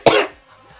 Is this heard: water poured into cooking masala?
no